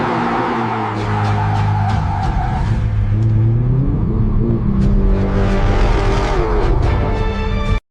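A BMW car in a generated commercial scene with engine revving and tires skidding, loud and continuous, the engine pitch rising and falling over an underlying music-like tonal bed with no talking.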